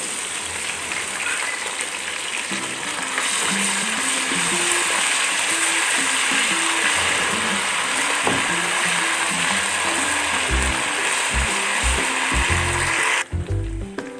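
Ginger-garlic paste frying in oil with golden-brown onions while cooking karela keema, giving a steady, loud sizzle and crackle that runs throughout, with occasional clinks near the end.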